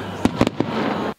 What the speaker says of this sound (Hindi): ये आपके सामने आतिशबाजी हो रही है, ये रेड स्क्वायर है